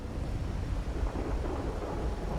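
Steady rumbling rain with low thunder in the video game Wuthering Waves, a dense, even wash of noise heavy in the low end, continuous and without voices.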